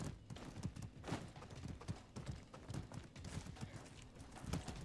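Horse hooves clop in the Mordhau medieval combat game, an irregular run of thuds at moderate distance, quiet and steady, with no voices.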